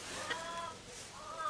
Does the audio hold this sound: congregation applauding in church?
no